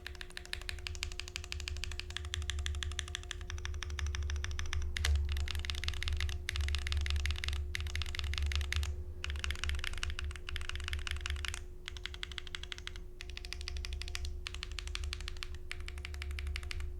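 Keys clack steadily on a Cloudnine mechanical keyboard in rapid, rhythmic bursts with short pauses, close and clear, with occasional deeper spacebar thunks over a faint steady hum and no voices.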